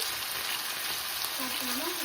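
Steady, dense sizzling of chicken fillet frying in a hot pan, continuous and close, with a faint low hum rising near the end.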